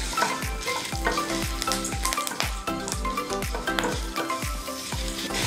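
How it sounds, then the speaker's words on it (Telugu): Dried red chillies and curry leaves fry in hot oil for a Telugu kandi pachadi tempering, giving a loud, busy sizzle with repeated stirring scrapes in an even rhythm, and no talking over it. "కొంచెం ఎండుమిర్చి కూడా వేగిన తర్వాత కొంచెం కరివేపాకు కూడా వేసుకోండి"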